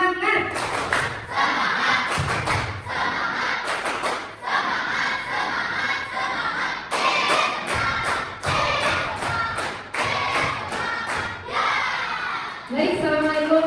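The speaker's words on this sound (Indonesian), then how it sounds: "tepuk semangat" Students in an eighth-grade class clap a patterned spirit clap in unison, with loud rhythmic bursts of claps and shouted chanting voices filling the room throughout.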